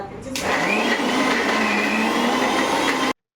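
A mixer grinder regrinding a spiced paste with turmeric and salt whirs loudly and steadily after a brief quiet start, running continuously with a harsh motor hum until it stops abruptly.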